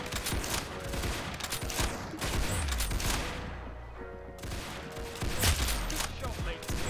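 Gunfire in the Roblox Arsenal video game, with rapid bursts of shots running through most of the stretch, loud and dense, briefly easing near the middle before resuming.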